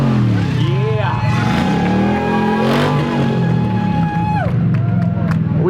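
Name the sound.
Pontiac Trans Am engine revving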